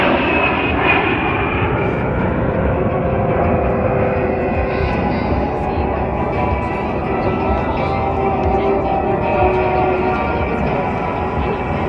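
A-10 jet aircraft flying during a combat search and rescue demonstration at the Davis-Monthan Air Force Base air show, a loud continuous engine roar and drone that holds steady throughout, with no talk heard.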